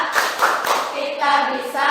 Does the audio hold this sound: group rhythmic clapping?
yes